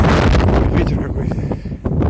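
A strong, cold north wind at the seaside in Anapa buffets the microphone with a loud, continuous low rumble and gusty roar that dips briefly near the end.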